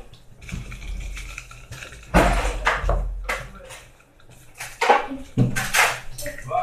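Metal dessert spoons clatter against dishes and cutlery as two are fetched in a home kitchen, in loud bursts of clinking with a voice and talk around them.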